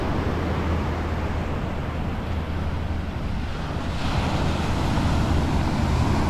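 Shorebreak waves pound a Maryland shore in a continuous, loud roar of surf, with wind buffeting the microphone and no voices.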